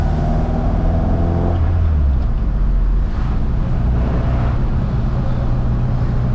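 Ford Mk1 Escort rally car with a Toyota gearbox, engine droning loud and steady from inside the cabin, a harmonic note shifting early then settling into a rough continuous rumble.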